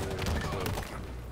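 A grenade blast and a burst of gunfire in Halo Infinite multiplayer, a brief, dense crackle of shots and a thud heard close.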